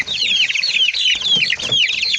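A rooster and hens cluck and chatter in a dense, busy stream of high, scratchy calls, close and continuous.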